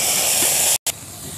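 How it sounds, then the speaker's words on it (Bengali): Nigella seeds and bottle gourd leaf paste hit a hot pan with a loud, steady sizzling hiss, broken by one brief silent gap before a softer sizzle carries on. "এবার কালো জিরে দিয়ে দেব, দিয়ে লাউয়ের পাতা বাটাটা দিয়ে দেব।"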